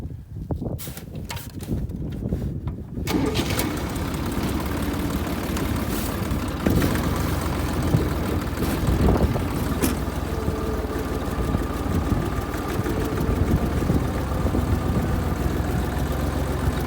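A vehicle drives on a highway towing a trailer heavily loaded with about two cubic meters of firewood after a storm; its engine gives a steady, continuous drone that starts after a quieter opening, with no talking.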